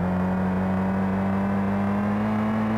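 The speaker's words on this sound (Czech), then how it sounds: "a zvuk motoru mám, to je divný" A car engine runs with a steady, droning hum at a constant pitch, loud and close. No one speaks over it.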